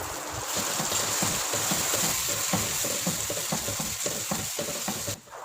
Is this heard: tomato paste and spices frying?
yes